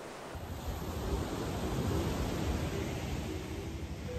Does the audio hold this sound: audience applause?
no